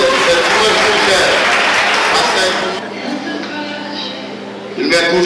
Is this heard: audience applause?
yes